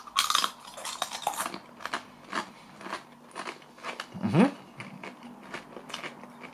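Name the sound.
biting into crunchy organic kettle chips with wild garlic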